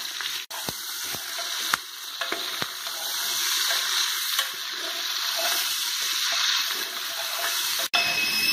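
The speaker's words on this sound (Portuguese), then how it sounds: "esse barulhinho significa que a água já tá fervendo." A pot of water coming to a boil while a feijoada is cooked gives a steady bright hiss with a faint whistling tone, broken by a few sharp clicks and knocks near the start and end.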